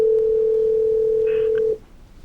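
A steady telephone dial tone hums clearly for nearly two seconds while calling a cruise line, then cuts off abruptly, leaving faint background noise.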